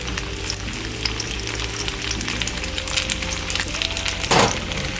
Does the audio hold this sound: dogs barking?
no